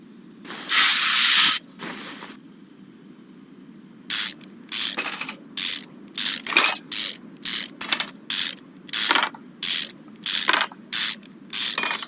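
In Car Mechanic Simulator 2021, a ratchet works bolts loose to remove the intake manifold from a Jeep Wrangler. Two longer hissing bursts come first, then about a dozen quick, loud ratcheting bursts in a steady rhythm, with no talking.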